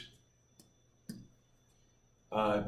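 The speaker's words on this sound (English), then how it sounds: "So let's see what we can do on the calculator. It's not too hard to type in." Calculator buttons are pressed in two faint, separate clicks in a quiet room, followed by a brief burst of speech.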